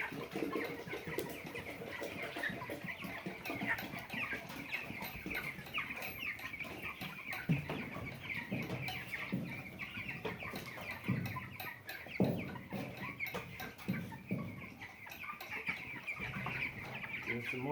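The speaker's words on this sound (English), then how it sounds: "Cornish rock cross broiler chickens, males and females." Cornish rock cross broiler chickens, both males and females, cluck and peep steadily inside a brooder house, a dense continuous chorus of many birds close by with no talking.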